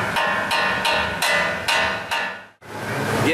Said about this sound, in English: hammer on that knuckle and it comes right out